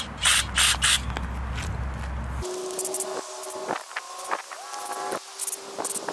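Carburetor spray cleaner hisses in short bursts through the passages of a Holley 4160 marine carburetor, the nozzle spraying close, with rubbing and scraping between bursts.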